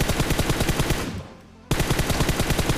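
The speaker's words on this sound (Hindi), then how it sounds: "और यहाँ पे थोड़ी सी रैंडम फायर देता हूँ मैं" Rapid automatic gunfire rattles in a battle royale video game, loud bursts of evenly spaced shots with a short pause in the middle before firing resumes.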